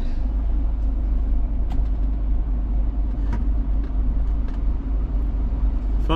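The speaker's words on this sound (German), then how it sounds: "jetzt kommen wieder LKWs" Cars and trucks pass on a road near a German level crossing, heard as a continuous deep engine rumble and tire noise, loud and close, with faint clicks and no speech.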